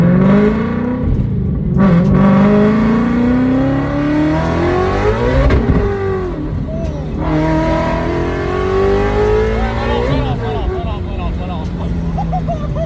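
Engine of a 900 wheel-horsepower car surging hard from inside the cabin on a highway roll, a loud continuous rising drone with gear-change dips, under excited voices of passengers talking and shouting.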